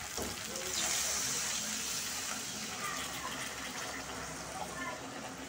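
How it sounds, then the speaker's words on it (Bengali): Water gushes into a pan of spiced dhokar curry being made as a Bengali dish, a steady close pour running the whole length with a slight surge early on. "এবার আমি জল দিয়ে দেবো।"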